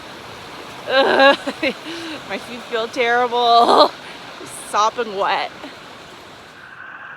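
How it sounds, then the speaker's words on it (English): Creek water flows in a steady broadband wash along a mountain trail crossing, heard nearby and continuous beneath a man's intermittent speech. "Crossing the creek again."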